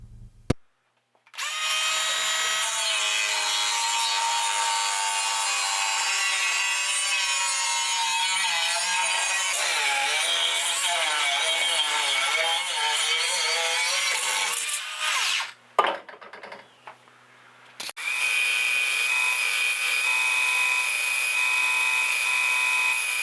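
A power saw grinds steadily through a fly-tying vise base for about fifteen seconds, pitch wavering, then stops briefly before a high-pitched drill whirs on to drill it. No talking.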